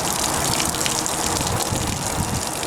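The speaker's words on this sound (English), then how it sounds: "Once the hot water tank is completely finished draining" Water gushes steadily from the drain of a hot water tank as it empties, a loud, continuous broadband rush with no break and no talking.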